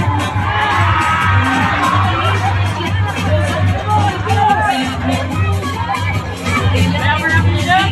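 A large crowd of people shouts and cheers loudly and continuously, a dense, sustained roar of many voices with whoops rising above the babble.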